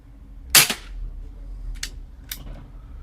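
A single sharp shot from an Umarex Zelos .25 air rifle fitted with a Buck Rail moderator, a crisp crack followed by a couple of fainter clicks in a quiet setting.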